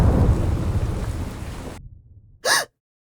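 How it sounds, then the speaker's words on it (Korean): A loud storm crash of thunder with pouring rain rumbles in a nineteenth-century storm story, heavy at first and fading out, then silence and a short breathy sigh. "엄청난 천둥이 내리쳤고"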